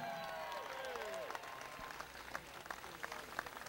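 Crowd applause at a celebrity race event at a Nashville motorplex track, a faint spread of scattered clapping, with a voice speaking over it and a rising whistle-like tone early on.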